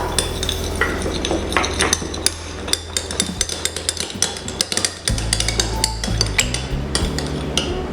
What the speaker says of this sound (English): Break in an egg. Then beat it very well.